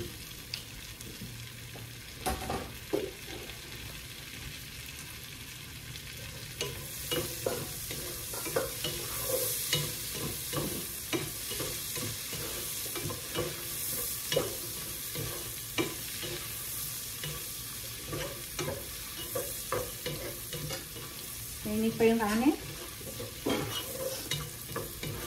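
Onion frying in a pan for chicken tinola sizzles steadily while a utensil stirs and scrapes in repeated rhythmic strokes, close and moderately loud, with no voices.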